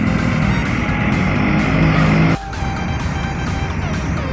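A Sudiro Tunggajaya Iguazu bus pulls out of the station near at hand, its engine rumbling loudly with a tonal whine. Midway through, the sound drops sharply and settles into a lower, steadier drone.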